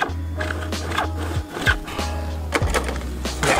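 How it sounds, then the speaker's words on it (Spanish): A small handsaw cuts through a tube in quick, rough back-and-forth strokes, close and fairly loud, with a low hum running underneath. "así que lo voy a tener que hacer con este pequeño serrucho nomás"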